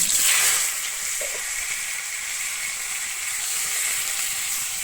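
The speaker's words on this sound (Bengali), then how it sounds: "এই তেলের মধ্যে সেদ্ধ করে রাখা এঁচোড়টা দিয়ে দিচ্ছি" Boiled raw jackfruit sizzling in hot oil for a Bengali echor alu dalna, a continuous bright frying hiss, louder at the start as the pieces go in, then settling to a steady crackle.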